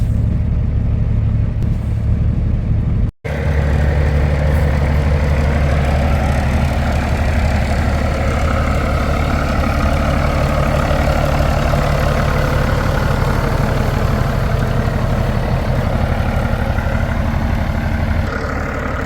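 An old Peterbilt semi truck idles nearby, a loud, steady low diesel rumble that holds unchanged throughout, broken only by one brief cutout near the start.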